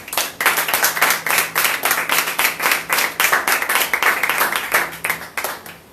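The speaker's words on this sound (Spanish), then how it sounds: "Dale palmas de alabanza al que vive." A church congregation clapping hands in praise in unison, a loud, steady rhythmic beat of many hands, about three claps per second, with a faint sustained tone underneath.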